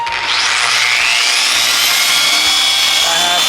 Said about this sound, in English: have the polisher at about 5 to 4 speed. I'm just gonna polish this bad boy out.